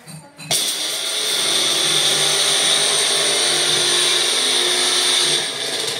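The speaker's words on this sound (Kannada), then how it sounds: "2 ಪೆಪ್ಪರ್ ಹಾಕ್ಬಿಟ್ಟು ಜಸ್ಟ್ ನೋಡಿ ಗ್ರೈಂಡ್ ಮಾಡ್ತೀನಿ ಅಷ್ಟೇ" A bullet-style mixer grinder whirs loudly and steadily after a brief start, grinding two peppercorns in a high, continuous motor whine that holds for about five seconds before easing off.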